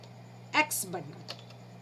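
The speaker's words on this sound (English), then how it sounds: "press the control key from the keyboard and X button" A two-key Ctrl and X shortcut pressed on a computer keyboard, giving a few crisp close clicks in quick succession over a low steady hum.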